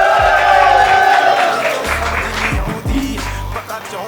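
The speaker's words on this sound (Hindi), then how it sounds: "एक बार अपने लिए ताली बजा दो भाई सारे भाई" A live show audience on The Roast Stage claps and cheers together, a dense wash of applause with scattered whoops and shouts, fairly close and steady throughout without pause.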